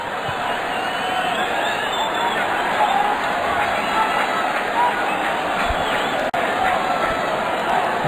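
A large football stadium crowd at an Atletico de Kolkata versus NorthEast United FC match makes a steady, dense roar of murmur and noise throughout, with a brief dropout near the end.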